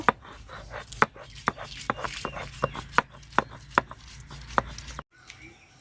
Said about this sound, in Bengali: তো এখন আদা আর রসুন একসাথে বাইটটা নিব।